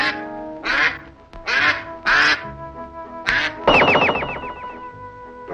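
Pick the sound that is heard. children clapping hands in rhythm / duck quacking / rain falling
duck quacking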